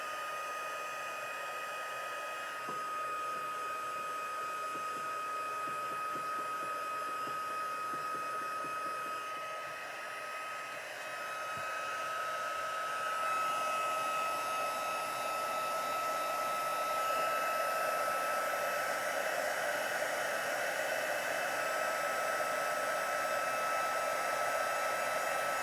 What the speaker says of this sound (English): Now I'm going to get my heat tool good and hot.